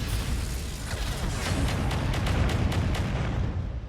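An autocannon in a video game fires at a turret, producing a steady stream of rapid, muffled thuds that run together into a dense, rumbling roar at moderate loudness for the whole stretch, with no talking.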